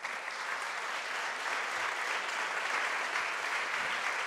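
An audience at a business conference applauds the panel speakers as they are introduced, a steady, even roar of many hands clapping throughout, moderately loud and uninterrupted.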